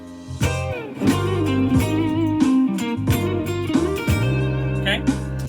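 Electric guitar lick moving from the first to the second pentatonic position in a soul groove, played as a run of bent and sliding notes over a steady backing groove, clear and up front for several seconds.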